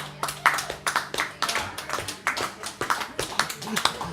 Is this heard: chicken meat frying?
no